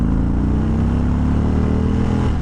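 A 2024 Indian Springfield Dark Horse motorcycle pulls hard from about 50 to 80, its engine note loud, close and rising steadily under heavy wind rush, with no talking.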